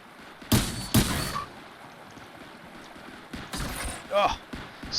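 Pistol gunfire in a video game: two sharp shots about half a second apart, a burst of later game sounds and a rising electronic tone, over a low continuous background.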